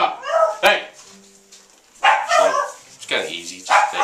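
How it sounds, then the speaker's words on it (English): Dogs bark and yap in short bursts, loud and close, mixed with someone shouting at them between the barks. "Stupid dogs. Stand there. Quit yapping!"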